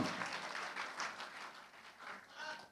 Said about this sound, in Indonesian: Tepuk tangan Swanghor